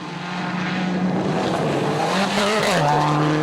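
A Subaru rally car in the 2006 PWRC champion's hands at Rally de Portugal 2009 roars loudly over rocks and ruts, its engine note holding steady then dipping and climbing as it shifts, close and continuous with no talk.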